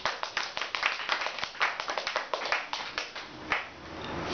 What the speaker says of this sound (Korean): 격려의 박수를 쳐주고 싶네요.